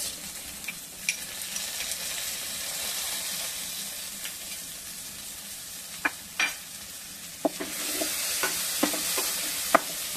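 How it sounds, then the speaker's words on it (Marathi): Tomatoes stirred and sautéed with browned onion sizzle quietly in a pan, punctuated by sharp spoon clinks and scrapes against the metal, growing a little brighter toward the end, alone without talk. "टोमॅटो चांगला याच्यामध्ये परतून घेऊया, थोडासा शिजूया त्याला."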